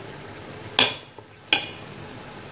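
Goat trotters dropped into a cooking pot with oil, two sharp clattering impacts close by with a faint knock between them, over a steady low hiss.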